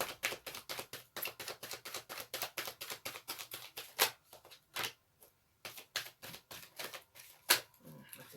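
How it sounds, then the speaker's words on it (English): Tarot cards being shuffled by hand during a full moon reading: rapid, rhythmic papery riffles and taps in steady bursts, close and fairly quiet, with a couple of sharper snaps and short pauses between rounds. "I'm going to give it a bit of a shuffle"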